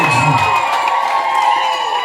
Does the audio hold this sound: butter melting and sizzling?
no